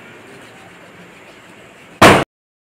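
Quiet outdoor background during Diwali, then a single sharp loud firecracker burst near the end, close by, followed by silence.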